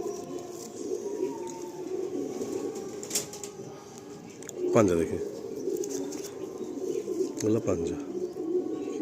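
Pigeon offered for sale, with soft cooing and brief rustling or wing movement heard under continuous nearby conversation.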